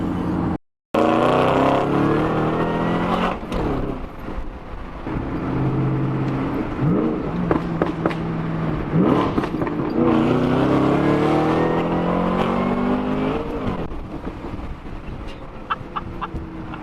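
BMW E46 M3 sports car engine driving outdoors, a continuous loud engine drone rising and falling through gear changes for the whole stretch, with brief dropouts and scattered clicks and rattles.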